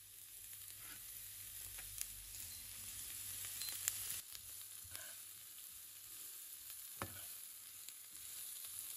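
Peppers and onions sizzle quietly in a pan, a soft continuous hiss with occasional small pops and clicks.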